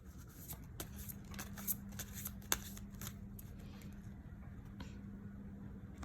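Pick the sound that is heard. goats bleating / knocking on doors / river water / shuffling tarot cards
shuffling tarot cards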